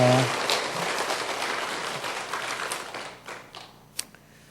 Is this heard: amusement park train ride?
no